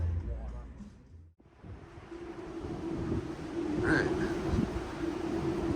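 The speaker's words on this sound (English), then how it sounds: "Bright and sunny, but sounds a little windy" Wind rushes steadily across the open deck of a cruise ship arriving in Aruba on a bright morning, a broad, rising roar with low rumble, while someone speaks briefly near the start.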